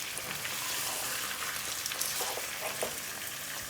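Beef chunks fry with onions in a pot, giving a steady, close hiss and crackle of hot oil with faint stirring scrapes and no talking.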